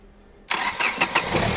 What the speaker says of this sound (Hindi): करते हैं गाड़ी को क्रैंक, दिखाते हैं आप सभी को